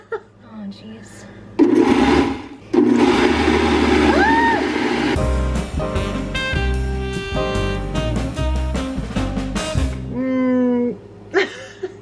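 A kitchen blender whirs loudly in bursts, blending a wet gluten mixture for a vegan corned beef seitan, with the motor pitch shifting as it runs, pausing briefly and restarting, with clattering between bursts.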